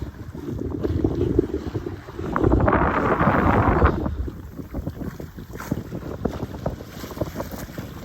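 Steady wind of about nine to ten knots blows across a sailboat at sea under full jib, a continuous rushing roar with a stronger gust in the middle and water noise beneath, no voices.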